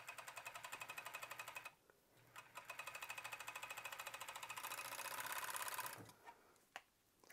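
A sewing machine stitches and trims a shirt seam in fast, even rapid-fire bursts, pausing briefly, then running again more loudly before stopping with a few isolated clicks.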